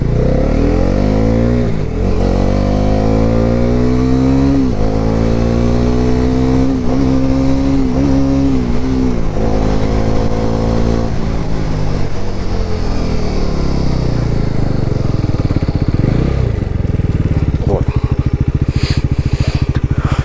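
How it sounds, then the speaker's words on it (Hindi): A 2024 Bajaj NS400z motorcycle roars loudly at high speed, its engine pitch climbing through gears, then dropping steadily as it brakes hard toward the end. "अभी हम लोग जो है हाई स्पीड पे ब्रेकिंग करके देखते हैं।"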